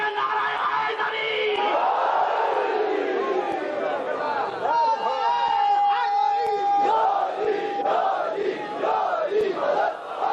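A large religious gathering at a majlis in Pakistan chants the Nara-e-Haidri slogan, many voices shouting together in loud, rising waves with a sustained lead cry, filling the space continuously.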